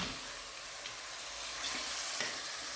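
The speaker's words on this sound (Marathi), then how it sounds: "हे चिकन पण ना फोडणीत आपल्याला व्यवस्थित असे मिक्स करून घ्यायचं आहे, परतवून घेऊया" Washed country chicken sizzles steadily in a hot whole-spice tempering as it is stirred and sautéed: a soft, continuous frying hiss with a few faint stirring clicks, no voices.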